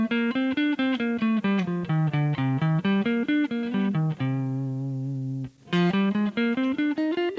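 Guitar playing a Dorian scale-and-arpeggio warm-up, a steady run of evenly picked single notes rising and falling, then a held ringing note before the notes pick up again, close and clear.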